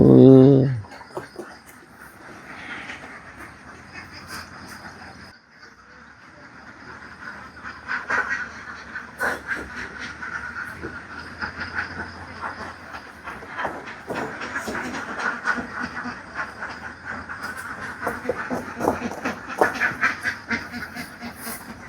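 Ducks on a large duck farm with a fish pond in Laos, a steady mass of quacking and honking from many birds, moderately loud and continuous throughout, with a loud burst right at the start and people talking over it.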